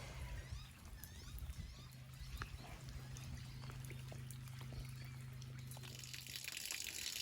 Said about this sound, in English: We've actually got a flowing creek.